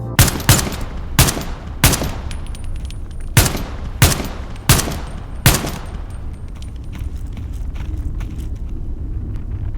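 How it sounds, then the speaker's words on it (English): Gunfire in the video game Into the Radius 2: about eight sharp, loud shots in uneven bursts over several seconds, each followed by a rumbling echo, then a quiet low hum. "I'm shooting at a bush."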